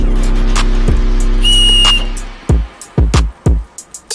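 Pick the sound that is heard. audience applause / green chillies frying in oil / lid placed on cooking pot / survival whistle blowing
survival whistle blowing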